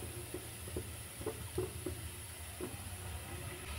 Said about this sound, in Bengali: এটা দিয়ে হালকা করে একটু ভেজে নেব